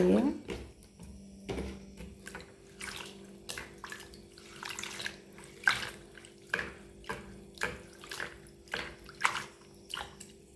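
Mudakathan greens are being washed in a container of water, giving a run of wet splashes and sloshes in a fairly regular rhythm close by, with a faint steady hum under it.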